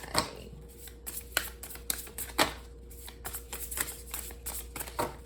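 Tarot cards are shuffled by hand close to the microphone, a run of soft riffling flutters and sharp little snaps repeating in an uneven rhythm, with no talking.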